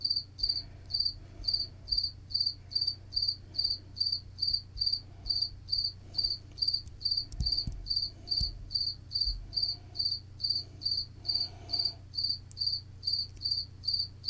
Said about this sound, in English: Man, that is one loud cricket.